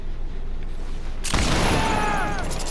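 The Deathslinger's gun in Dead by Daylight fires through a small gap in the floor of the Macmillan Estate. A single sharp, loud shot and its boom break a low background hum partway through, followed by a ringing tail.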